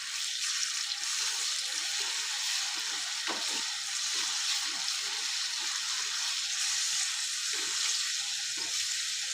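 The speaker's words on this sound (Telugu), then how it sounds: "ఆయిల్లో మంచిగా ఫ్రై అయింది కదా అల్లము." Ginger paste fries in hot oil with a continuous bright sizzle and a few soft stirring knocks underneath, close and even throughout.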